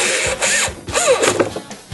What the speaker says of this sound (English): And then I just take my drill, power it in, go in reverse.